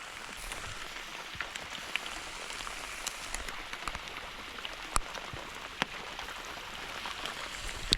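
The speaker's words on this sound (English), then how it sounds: "really having a go now with the rain" Rain falls steadily around a timbered river while Murray cod fishing, a constant hiss of drops on water and surfaces with scattered sharper taps and splashes, no voices.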